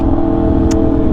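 Yamaha R1M superbike fitted with an SC Project exhaust, its engine held at a loud, steady rev with a constant dense rumble throughout and no voices.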